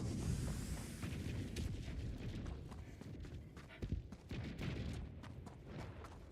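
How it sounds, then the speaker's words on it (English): Far-off explosions rumble through a video game battle, a dense, low, continuous roar with scattered thuds and no clear single blasts. "I hear explosions this way"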